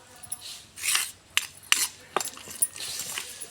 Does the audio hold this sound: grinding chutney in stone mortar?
yes